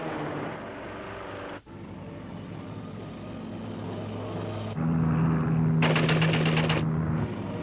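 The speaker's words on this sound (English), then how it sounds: "Armed with dual Vickers machine guns" Twin Vickers machine guns on a World War I Sopwith Camel biplane fire one loud, rapid burst of about a second over the steady drone of the rotary engine.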